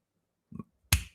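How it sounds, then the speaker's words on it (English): A single close finger snap, sharp and crisp, comes after a soft rub of the fingers, with silence around it. "Snap your fingers."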